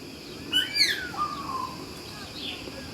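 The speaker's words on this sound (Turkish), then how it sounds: "Burada da mavi ara papağanları var." Several bright calls from blue-and-gold macaws at a zoo ring out over steady background hiss, sharp squawky chirps in a short burst, then fading to quieter ambience.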